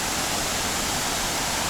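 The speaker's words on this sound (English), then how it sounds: "And here is the Munduk waterfall." Munduk waterfall in Bali roars as a steady, dense wash of falling water, continuous and full without breaks, with no voices over it.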